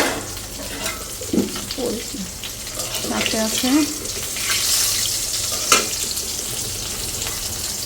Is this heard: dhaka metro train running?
no